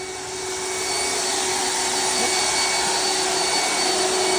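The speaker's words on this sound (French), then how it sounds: "Voilà, l'aspirateur," A vacuum cleaner running during mechanical sweeping of a lined chimney flue spins up in the first second, then holds a loud, steady, broadband roar with a constant whine.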